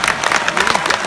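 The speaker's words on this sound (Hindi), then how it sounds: "मेरे स्वागत में दोबारा जोरदार तालियां बजाएं" Applause from a comedy show audience welcoming a Hindi stand-up poet, a steady roar of many hands clapping that is loud and continuous, with a faint crowd murmur mixed in.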